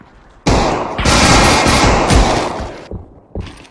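Loud automatic gunfire in a video game rattles off in a dense sustained burst of about two and a half seconds, then a short final burst follows after a brief pause.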